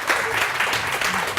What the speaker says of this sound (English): Stand up, keep clapping